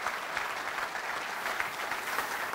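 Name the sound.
audience applause at a club meeting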